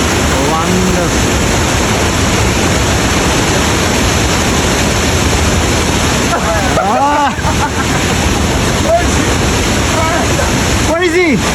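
Itanda Falls on the Nile in Uganda roars as a loud, steady rush of whitewater, dense and unbroken throughout, with faint voices briefly audible beneath it.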